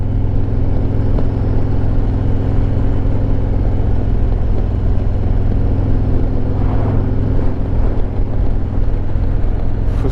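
Harley-Davidson Road Glide Limited motorcycle engine under way on a ride, a steady loud low rumble with wind noise, no clear throttle changes and no talk.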